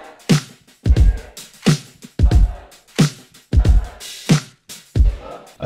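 A full drum kit processed with a gate, compressor and cassette-tape emulation plays a steady groove of punchy, tightly gated hits, each cut short into silence, roughly two hits per second.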